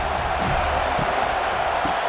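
Stadium crowd roars steadily in a college football video game, Florida State against Florida, a broad continuous wash of cheering on a big third down with no distinct breaks.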